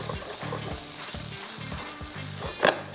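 Chilli chicken being stirred with crushed chillies in a hot pan, a steady loud sizzle under repeated scraping strokes of a spatula, with a sharp clank near the end.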